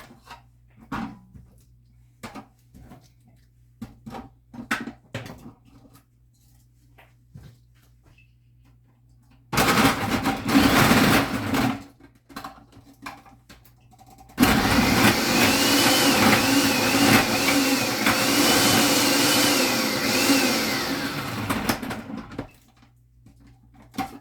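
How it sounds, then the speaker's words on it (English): A food processor grates sweet potato in two loud whirring bursts, a short run followed by a longer steady one of about eight seconds, with quieter clattering handling sounds before them. "I'm going shorthand today and using the processor"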